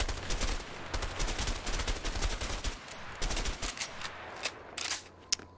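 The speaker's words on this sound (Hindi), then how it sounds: "ये घटिया शॉटगन शॉटगन ट्राई करता हूं" Gunfire in the video game A Way Out comes as a dense, continuous barrage of loud, close shots that runs throughout and fades slightly near the end.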